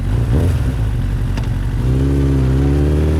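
A motorcycle engine revs loudly and close, its pitch climbing then settling into a steady rising drone, with some clattering.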